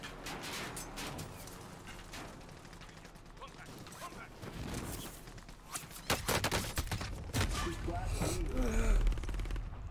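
Rapid video game gunfire and mechanical clatter in bursts, getting louder and denser toward the end, under background game sounds.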